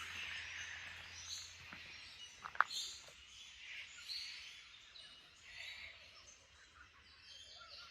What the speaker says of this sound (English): I thought I might just let you hear all the birds.